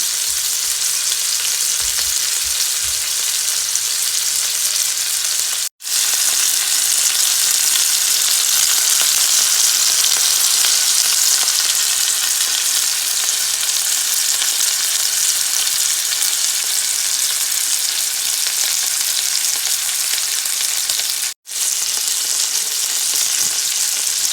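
Venison steak sizzles and fries steadily in a pan, a loud, continuous crackling hiss broken by two brief dropouts.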